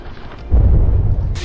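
A cannon in the naval combat video game From the Depths fires with a heavy, deep boom that swells and rumbles for about a second before a brief hiss.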